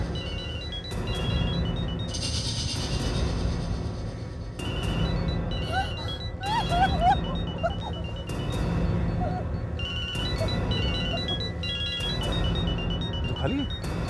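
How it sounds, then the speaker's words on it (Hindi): A mobile phone rings from inside a bag in repeated bursts of electronic tones, muffled and mid-distance, while voices and background sounds carry on underneath. "इसी बैग में से मोबाइल की आवाज आ रही है सर।"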